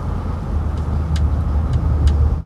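A car speeding in a war film, a loud continuous engine and road rumble with a few brief higher hisses, cutting off abruptly at the end.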